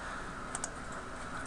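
Two quick computer mouse clicks land close together near the middle, crisp and close, over a steady background hiss.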